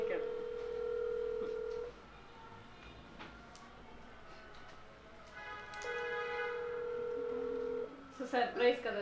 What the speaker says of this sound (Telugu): వీడియో కాల్ చేస్తావా